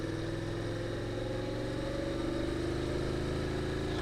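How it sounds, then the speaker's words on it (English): A Honda DCT motorcycle engine chugs steadily in third gear at low speed through a corner, with a constant, even mid-pitched drone and a slight rise in revs toward the end. "I'm in third gear here, just chugging around the corner."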